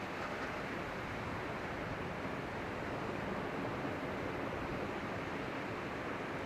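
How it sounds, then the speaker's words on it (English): Continuous ocean waves crashing and rushing nearby at an outdoor workout by the sea, a dense, even roar of surf with no speech. "Listen to the waves crash in the background."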